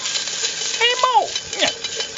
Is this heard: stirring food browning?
yes